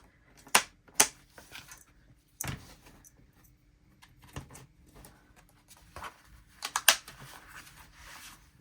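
Sharp, separate punches and taps, spaced irregularly, as holes are made in a folded paper signature for a handmade watercolor sketchbook, with soft rustling of paper between them.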